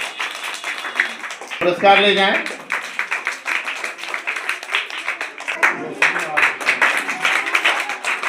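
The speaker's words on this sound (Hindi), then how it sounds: "हाँ तालियां बजाते रहें" Scattered audience clapping continues at a primary school's annual function, uneven claps under and between a man's loud speech near the microphone.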